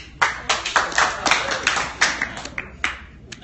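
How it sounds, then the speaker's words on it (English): Scattered audience clapping at a stand-up comedy show at The Comedy Store, a dozen or so distinct sharp claps in a loose, irregular rhythm, fairly close and moderately loud, with no talk over them. "Pretty hard clap."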